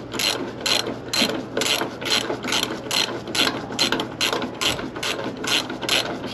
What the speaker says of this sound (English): I'm gonna start by taking off the bottom bolts of this bracket because this pump has to pull out